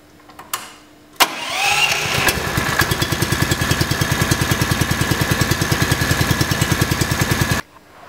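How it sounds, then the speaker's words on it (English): Engine of a Tow and Collect Pro 1500 starting after a couple of short clicks, then settling into a steady, loud, rhythmic chugging idle to warm the oil before shutting off abruptly. "When we start the engine up, we'll leave it running for approximately 5 minutes and then turn it off."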